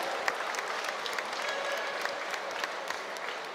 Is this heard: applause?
yes